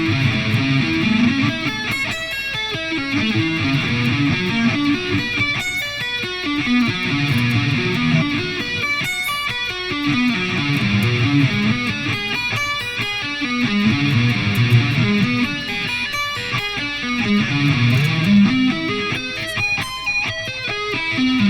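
Electric guitar sweep-picked arpeggio sequence played slowly with a lightly driven tone, repeating cascades of notes in a steady cycle that ends in a short riff, heard alone throughout.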